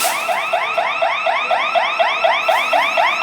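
A store's security burglar alarm at a Meijer shop blares continuously, its loud electronic tone sweeping up in rapid repeating whoops about every quarter second, steady and alone with no voices.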